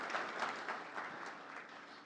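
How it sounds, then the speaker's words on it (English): Light applause from a small crowd, a soft scattering of claps at moderate distance. "Please, a round of applause for you and for everyone that made this happen."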